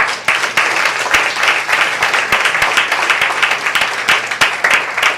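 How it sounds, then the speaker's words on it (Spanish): Congregation applauding in a church service at Casa de Dios Efraim, a dense, steady wash of many hands clapping with a few sharper individual claps, loud and close, with no talk. "¿Cuánto le dan un aplauso al Señor?"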